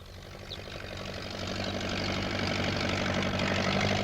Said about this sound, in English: Peter Fogg came along on his tractor.